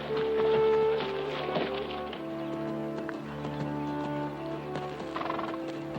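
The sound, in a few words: horse hooves clip-clopping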